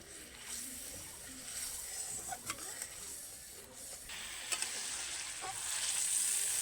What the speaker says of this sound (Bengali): হালকা আঁচে বেশ কিছু সময় ধরে কিন্তু মশলাটা কষে নিতে হবে